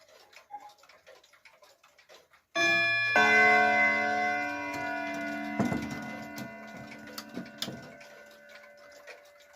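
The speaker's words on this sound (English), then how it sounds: "It runs for 8 days on a winding and it strikes on 3 chime rods with bim bam." A mechanical wall clock that runs eight days on a winding strikes its three chime rods in a bim-bam pattern. Several ringing struck tones sound after a quiet ticking start, then fade slowly in a quiet room.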